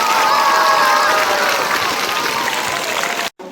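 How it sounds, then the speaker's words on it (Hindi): An audience at a school event applauds a family, with loud, dense clapping from a crowd that continues steadily before cutting off abruptly near the end. "एक बार जोरदार इस परिवार के लिए तालियां आप स्वागत कर रहे हैं"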